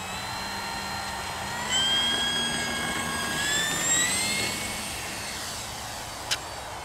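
A radio-controlled Turbo Timber Evolution electric airplane flies overhead in misty weather, its motor whine rising and falling in pitch as it passes at moderate distance.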